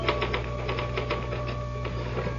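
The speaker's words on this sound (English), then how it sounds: "Can I use the typewriter for a moment?" Typewriter in an old-time radio drama clacking out a quick, irregular run of keystrokes, crisp and close, over a steady background hum with no voices.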